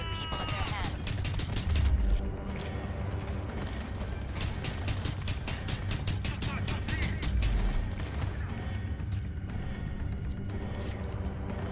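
Pistol fire in the video game Homefront: The Revolution, a rapid run of sharp shots and mechanical clicks over game music and voices, with a couple of heavier low booms.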